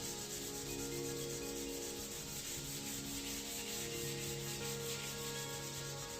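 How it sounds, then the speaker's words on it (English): A drum sander smoothing wood boards for a console table, a steady continuous rubbing drone with a constant machine hum and no pauses throughout. "I actually sent these through the drum sander."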